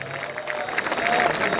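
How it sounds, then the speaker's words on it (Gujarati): A crowd at a Gujarati folk literature performance in a Reliance township breaks into brief, lively clapping, with some cheering mixed into the steady burst. "આ વાતાવરણને જોરદાર તાળીઓથી વધાવો એકવાર"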